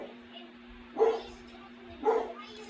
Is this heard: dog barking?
yes